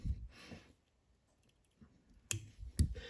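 Scissors snip off excess marabou material at the vise while tying a Yellow Foxy Streamer fly, two sharp close clicks near the end after softer handling noises, with no talking.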